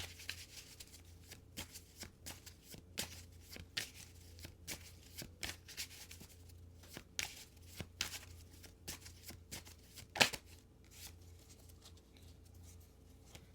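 Tarot cards are shuffled quietly up close, a long run of soft, irregular riffles and taps with one sharper snap near the end.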